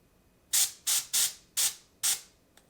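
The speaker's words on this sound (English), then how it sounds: "this primer seems to be spraying down pretty darn good" Pro Acryl black primer sprays from a can in five short, loud hissing bursts, each about a third of a second long, with brief pauses between them and a tiny click at the end.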